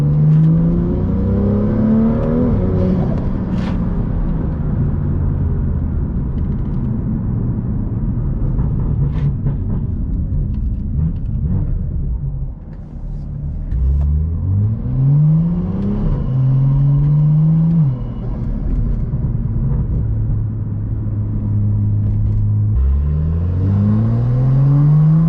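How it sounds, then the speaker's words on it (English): A car with a carbon hood accelerates in a slight pull, its engine rumbling and rising in pitch through several gear sweeps with strong intake noise, loud and close for the whole stretch. "Hopefully you'll hear a lot of intake here."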